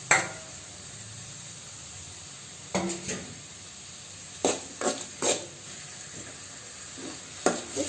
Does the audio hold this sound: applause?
no